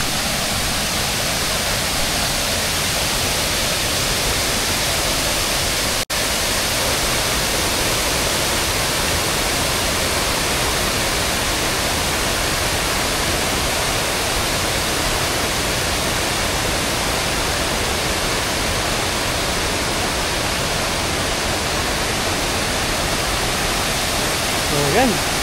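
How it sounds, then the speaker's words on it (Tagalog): Cabugahay Falls pours in a continuous, loud, broadband roar of rushing water that stays unbroken and close for the whole stretch. "Ito yung magandang falls din."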